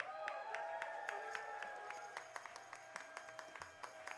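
Audience applause for a singer at a live band show, heard as scattered, fairly light clapping over steady room noise with sustained musical tones behind it.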